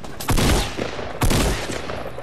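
Two loud gunshots from a hunting rifle in Fortnite crack about a second apart, each with a sharp attack and a short booming tail.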